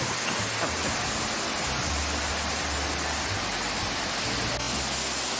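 Chinna Suruli waterfall at Megamalai, a constant broadband roar of falling water, steady and close with no break.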